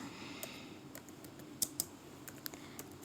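Quiet, close keystrokes tap out a prompt on a computer keyboard in short irregular bursts, with a couple of sharper clacks partway through, no talking.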